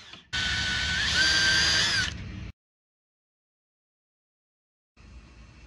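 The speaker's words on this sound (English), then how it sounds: "It's literally just a wire brush and a drill" A power drill fitted with a wire brush scrubs the inside of a pedal, giving a close, steady whirring grind for about two seconds that rises slightly in pitch, then cuts off into silence.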